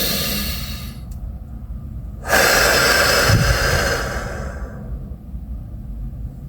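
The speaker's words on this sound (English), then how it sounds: "Breathe." Slow, deep breaths close by, a steady airy exhale with one louder, fuller breath in the middle, alone with no talking.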